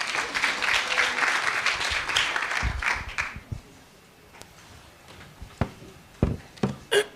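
An audience at a quality-in-higher-education forum applauds steadily for about three seconds, then the clapping fades into scattered claps and room noise.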